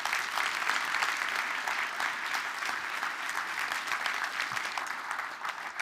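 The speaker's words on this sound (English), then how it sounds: "Give her a big applause." Sustained audience applause welcoming a speaker at a talk on the digital revolution, a dense steady wash of many hands clapping at even loudness for the whole stretch, with no voices over it.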